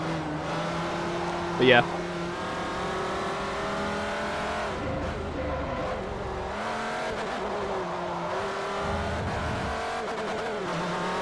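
A Ferrari LaFerrari race car in Forza Motorsport 4 drones with a steady engine whine that rises and falls through gear changes, continuous and prominent, with someone talking briefly over it.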